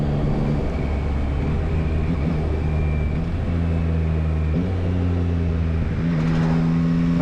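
A 2022 Yamaha MT-09 naked triple with a quick shifter pulls hard through several gears, its steady engine drone stepping down in pitch at each shift before climbing again, loud and close throughout.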